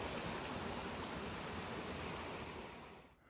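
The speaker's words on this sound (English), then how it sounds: "Right out, following the babbling brook." A woodland brook flows on a hiking trail near North Percy Peak, a steady faint rush of water that runs alone without pause before tapering off at the end.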